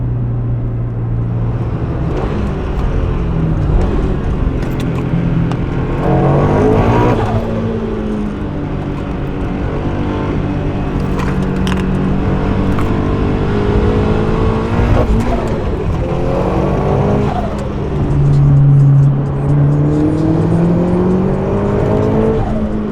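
A turbocharged Subaru BRZ/Toyota 86 with an HKS turbo kit on an FA22 engine roars steadily, rising and falling through several revving pulls with a whirring turbo note, loud and close throughout.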